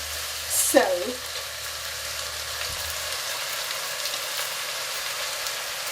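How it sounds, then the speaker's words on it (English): Pre-soaked dal going into a pot and cooking, a faint continuous sizzle with a soft bump and a short squeak near the start, steady and close. "I'm now going to add the dal. I've got 500 grams of dal pre-soaked."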